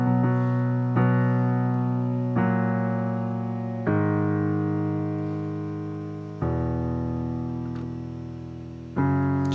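Piano plays only the bottom two notes of each chord from a song, six slow struck dyads, each ringing and decaying before the next, clear and close with no voice.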